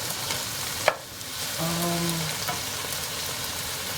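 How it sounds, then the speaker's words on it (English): Beef sizzling in a pan as it is stirred and releases its moisture, a dense close hiss with a sharp clatter near the start and a brief tonal hum midway, no talking. "So that's the beef releasing all the moisture."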